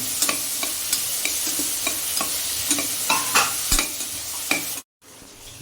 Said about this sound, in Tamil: வெட்டி வச்ச தக்காளியை அதில் சேர்த்துக்கலாம் சேர்த்துக்கிட்டு இதை அப்படியே கிளறுவோம்